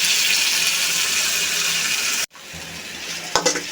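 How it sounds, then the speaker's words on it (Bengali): Fried chicken tumbles into spiced masala and crackles with a loud, steady sizzle, which drops away abruptly and then returns more quietly with a few scraping stirs near the end. "এখন এই ভেজে রাখা চিকেনটা দিয়ে দেব।"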